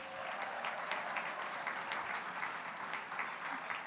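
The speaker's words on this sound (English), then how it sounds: "Let's give them a round of applause." Applause for a library naming committee at the grand opening of the Billie Jean King Main Library in Long Beach, a crowd clapping steadily from a distance, fairly faint and even throughout.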